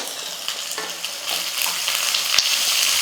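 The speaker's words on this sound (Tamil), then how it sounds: "இது எல்லாம் சேர்ந்து நல்லா வதங்கட்டும்" Onion and garlic sautéing with asafoetida in a hot pan, a dense continuous crackling sizzle, close and loud, with faint stirring clicks and no voices.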